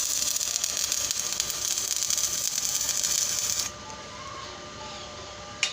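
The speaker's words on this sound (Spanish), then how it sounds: "Voy a soldar un pedazo nada más." Pipe-joint welding gives a steady crackling hiss that cuts off partway through, leaving a quieter hum and a single sharp tick near the end.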